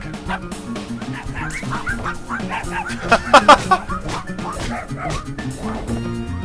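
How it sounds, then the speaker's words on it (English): Short yapping dog barks in a video game, a few quick bursts in the middle over busy game music and effects. "Dog."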